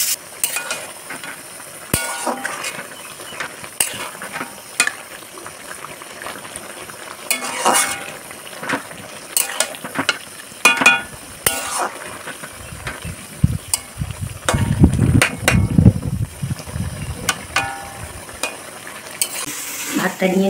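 Curry being stirred and fried in a pan, with repeated scraping stir strokes over a steady sizzle and occasional utensil clinks, close and moderately loud, with no talking.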